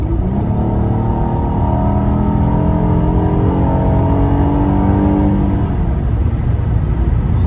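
A 2004 Cadillac CTS with the 3.6 engine, fresh spark plugs fitted, accelerates hard with a rising engine note climbing steadily through the gears, loud and close from inside the car, a steady road rumble beneath, no talking.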